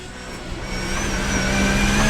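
Race car in the Assetto Corsa driving game at Road Atlanta, engine droning then shifting down with rising revs, steady close mechanical tone with no talk.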